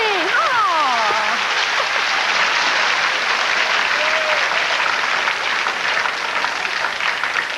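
Studio audience applause on a 1988 CBS daytime Card Sharks game show, a steady, dense wash of clapping filling the whole stretch at constant loudness, with a few whoops and a brief voice rising above it early on.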